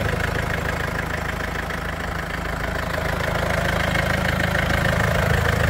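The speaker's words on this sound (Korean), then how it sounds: "엔진 소리가 경쾌하지 않은데, 이건 뭐 디젤의 특징이라고 보시면 될 것 같습니다." A Mercedes-Benz E300 CDI diesel engine in rough condition idles steadily, a loud, dense, even clatter holding throughout with no voices.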